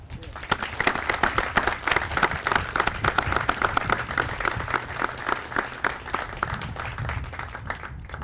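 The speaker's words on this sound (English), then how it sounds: "Let's give a round of applause." An audience at a military change of command ceremony gives a sustained round of applause, many hands clapping densely and steadily, loud and continuous throughout.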